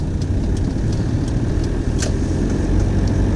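Car driving on Nauru, turning left onto the airport road, with a steady close engine drone and road rumble from inside the cabin, alone without talk.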